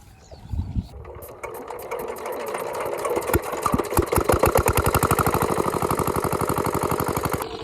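A small engine-driven water pump being primed beside a pond for draining starts with a few scattered coughs and sputters, then settles into a rapid, even chugging beat that stays close and steady to the end.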